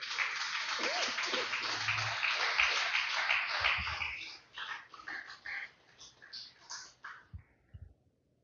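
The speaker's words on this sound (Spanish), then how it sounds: "Den un fuerte aplauso al Señor, aleluya." Sustained applause from a church congregation fills the first half, then fades into scattered claps and murmuring voices.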